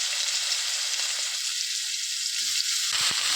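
Split green chilies and mushrooms hit hot oil in a pan, producing a steady loud sizzle and hiss that holds throughout, with a few soft pops near the end.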